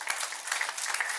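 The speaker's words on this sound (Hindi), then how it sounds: "ये डेडिकेशन अच्छा लगा हो वो जोरदार तालियां बजाएंगे।" A crowd of guests claps loudly and continuously at a baby shower, dense applause filling the whole short moment.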